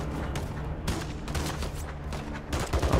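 Rapid bursts of gunfire in Call of Duty: Modern Warfare 3 crack repeatedly over a low rumbling background, several shots in quick succession.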